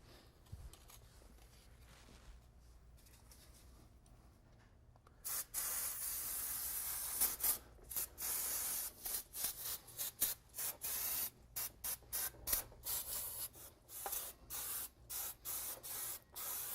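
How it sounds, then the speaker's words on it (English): Brake cleaner aerosol hisses in repeated loud bursts onto a disc brake's parts, short sprays in quick succession after a quiet stretch, close to the listener with no talking. "So we're going to take brake cleaner and spray everything down"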